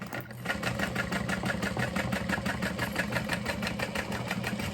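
A sewing machine stitching through tote bag piping runs in a fast, even mechanical rhythm, loud and close, with a steady motor hum under rapid repeated needle strokes.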